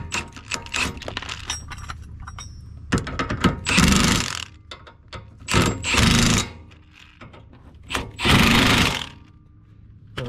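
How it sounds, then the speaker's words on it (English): Ratchet wrench retorquing suspension bolts on a 2002–2005 Honda Civic Si EP3 during a rear toe adjustment, heard as several short bursts of rapid clicking separated by pauses, close and fairly loud, with no talking. "I'm gonna go ahead and retorque those down as well."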